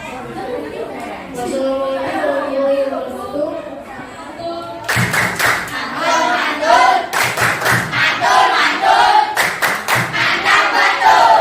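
Children clap out a rhythmic chant in a classroom, with voices and chatter at first, then loud, sharp bursts of clapping in steady patterns with pauses between groups of claps.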